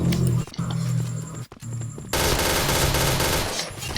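Video-game gunfire fills the stretch with rapid automatic bursts, briefly broken by short gaps, then turns into a dense, loud, continuous volley for the second half.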